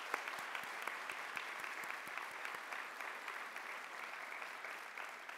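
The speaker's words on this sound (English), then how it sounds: "Please join me in one more round of applause" Audience at a CEO summit applauds scholarship and research grant recipients: dense, steady clapping from a large crowd, sustained evenly for the full stretch without fading.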